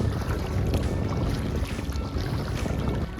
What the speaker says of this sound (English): It just got super windy and it's blowing in the exact opposite direction of where I need to go.